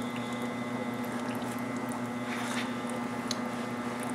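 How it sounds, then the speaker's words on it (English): A Zenith pump hums steadily at a low pitch while set to a slow drip, with faint liquid squishes and small ticks over a constant mechanical tone, heard close and quiet. "And you hold it down, and you'll see it start pumping."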